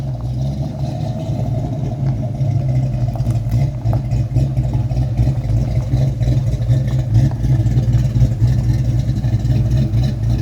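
A 1993 Ford Mustang SSP notchback, an ex-North Carolina State Police car, idles with a used H-pipe, Flowmaster mufflers and new tailpipes, giving a steady, loud, deep burble close by that holds evenly throughout.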